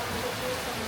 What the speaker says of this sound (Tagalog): Lakas ng ulan talaga.